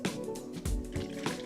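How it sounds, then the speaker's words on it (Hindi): A cup of water poured into a pot of mutton chops, with short splashing, gurgling and dripping bursts close up. "इसके लिए हम इसमें शामिल करेंगे 1 प्याली पानी"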